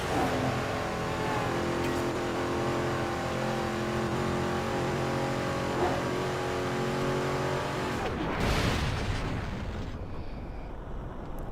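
A race car in Midnight Club 3: DUB Edition Remix holds a steady, loud engine drone, then a nitrous boost bursts into a sudden whooshing roar before the sound thins out.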